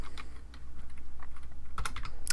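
Fast typing on a computer keyboard, a close, steady rattle of key clicks with a few louder taps near the end, alone with no talk.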